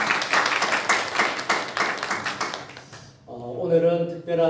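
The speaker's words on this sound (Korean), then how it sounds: "우리 박수로 격려해 주시기 바랍니다" Congregation applause in a Korean church service, honoring the pastor and the Mahanaim worship team: a dense stretch of clapping for about three seconds, then fading as a voice begins speaking.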